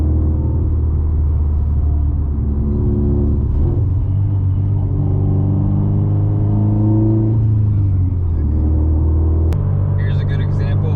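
A Subaru on the road, its engine and tyre rumble droning steadily and loudly inside the cabin, with shifting tonal engine notes as it drives and a brief click near the end.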